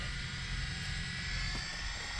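Steady drone of a Cessna 310R's twin engines running close by, a constant broadband roar with low throb and no voices.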